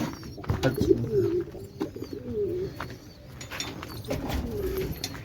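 Soft, low pigeon coos repeat through the recording, a few birds murmuring close by over a faint rustling background.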